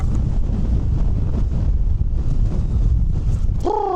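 Strong wind buffets the microphone on an exposed Lake District mountain in cold winter conditions, a loud, continuous roaring rumble, with a brief voice at the very end.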